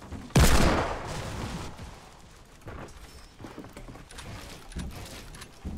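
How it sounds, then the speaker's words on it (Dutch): A sharp, loud burst of gunfire fired downward in a video game opens the passage, then trails into scattered fainter shots and rumbling game noise. "Ik ga gewoon naar beneden schieten."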